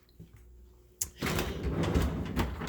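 A bottom freezer drawer of a fridge freezer being opened or shut while the appliance is emptied: a quiet room, then one sharp clunk, followed by a steady sliding rumble that carries on to the end.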